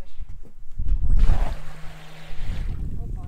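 A Phantom carp bait boat moves across the water, giving a splashing, churning rush with a faint motor hum that swells and fades over a few seconds, with voices nearby.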